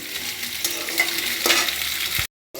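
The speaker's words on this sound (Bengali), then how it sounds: "মটরশুঁটিটা একটু বাজে দিচ্ছি, আর একটু নাড়াচাড়া করে নিই" Green peas sizzling and being stirred in a frying pan, a steady hiss broken by a few scraping strokes of the spoon, close and alone, ending abruptly in a short silence.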